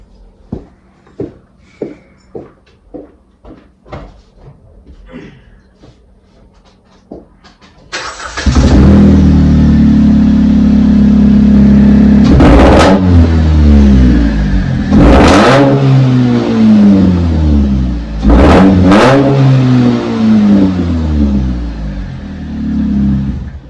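Clicks and ticks, then a truck engine with a side stack exhaust fires up loud and idles with a rough rumble, revved hard three times, each rev swelling and falling back.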